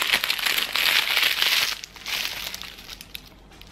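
A plastic bag frozen stiff in the winter cold of Harbin, China is crumpled, giving a loud crackling crinkle that fades into softer scattered rustles.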